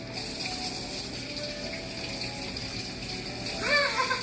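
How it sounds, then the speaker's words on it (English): Water runs from a kitchen tap as hands are washed before making pizza dough, a steady close hiss throughout, with a brief sharper gush near the end. "Alright, so let's wash our hands."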